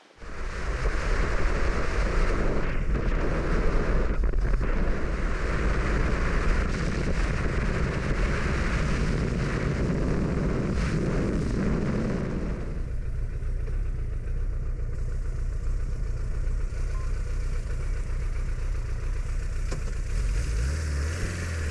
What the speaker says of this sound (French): C'est bon, la moto est redémarrée.